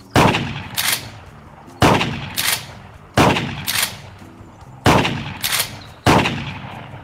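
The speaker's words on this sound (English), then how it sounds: "Down the iron sights and you pull the trigger." Shotgun blasts in a virtual reality clay shooting game covering sporting clays, trap and skeet: five loud, evenly spaced shots, each followed by a sharp mechanical rack, alone without talk.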